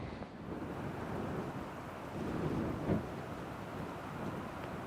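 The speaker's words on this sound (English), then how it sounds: "the wind picked up so much, almost wants to blow us away" Strong wind gusts across an open outdoor spot in the small town of Valier, roaring and buffeting the microphone steadily, with a brief stronger gust near the end.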